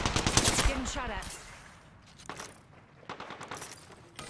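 Rapid gunfire from the Apex Legends video game, several quick bursts of shots, loud and close at the start and then fading, with a few softer shots later and a voice talking briefly.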